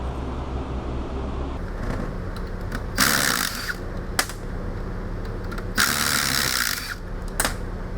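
Bearing being pulled off a Ford Mustang 8.8-inch differential, with repeated bursts of loud mechanical ratcheting or grinding over low shop noise, two long clattering stretches plus a few sharp clicks.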